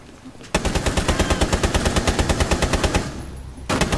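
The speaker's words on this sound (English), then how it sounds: "Oh, that gun sounds crazy." Gunfire in Rainbow Six Siege comes as a loud, close automatic burst of rapid, evenly spaced shots that lasts about three seconds, breaks off briefly, and then starts again.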